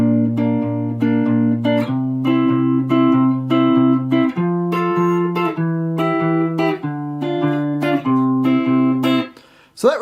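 Electric guitar plays one full pass of a melodic line from a song: repeated picked note pairs that hold and ring, stepping up and back down, close and loud, with a scrape at the very end.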